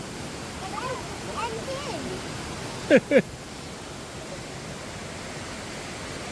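Steady broadband rush of a waterfall at a swimming spot near a farm, continuous throughout, with brief voices talking over it and a short double burst of sound midway.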